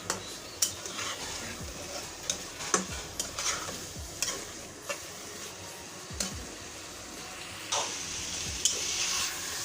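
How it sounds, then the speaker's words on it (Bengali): Chicken malai curry with seekh kebabs stir-fried in a pan, a steady sizzle broken by repeated scraping and clattering strokes of a spoon against the pot, close and fairly loud with no talking. "আমি শিক কাবাবগুলো দিয়ে তারপরে এটাকে আবারও থেকে কষিয়ে নিব।"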